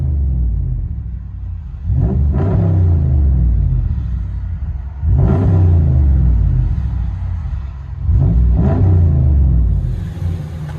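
Inside the cab of a 2017 Ram 1500 Big Horn with the 5.7L Hemi V8 and a Flowmaster Outlaw dual exhaust with resonators, three loud rev-ups swell over a deep, steady rumble and fall back between them.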